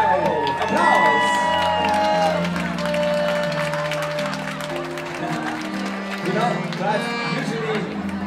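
A crowd at a live music show in Saarlouis claps and cheers as a performer from Trinidad and Tobago is introduced, with whoops over loud music and voices throughout.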